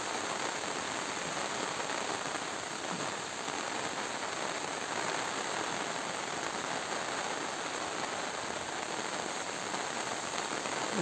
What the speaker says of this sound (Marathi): पाऊस आलेला आहे खूप